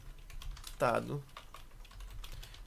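Computer keyboard typing on a Linux terminal, soft clicks scattered through the clip with a keystroke like Enter, heard under a brief stretch of voice.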